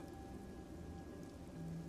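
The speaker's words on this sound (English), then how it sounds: "The rain, it never stops." Steady rain falls in the video game Master Detective Archives: Rain Code, a soft, even patter that continues faintly and without break.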